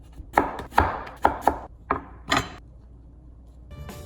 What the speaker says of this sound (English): the noodles can simply be cut into planks by hand